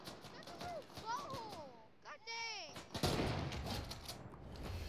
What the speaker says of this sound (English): Hear people shooting.